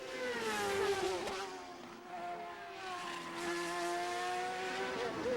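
A 1997 CART Champ Car accelerates on the Mid-Ohio road course, its engine note rising and falling in a sustained high whine, heard steadily at a distance as in broadcast coverage, with no voice over it.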